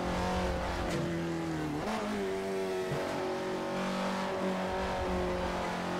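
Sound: Abarth 595 car engine in the video game Assetto Corsa

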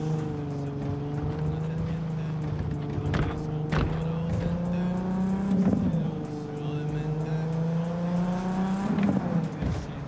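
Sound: car engine in a video game

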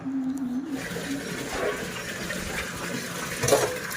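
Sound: water running while washing dishes

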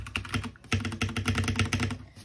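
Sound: typing on a new RGB gaming keyboard

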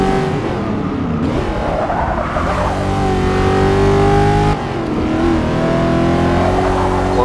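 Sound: Pontiac Firebird Trans Am SD 455 engine revving, Forza Motorsport 6 video game

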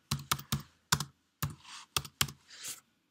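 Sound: typing on a computer keyboard

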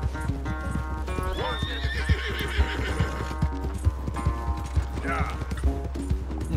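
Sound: horse galloping and neighing in video game

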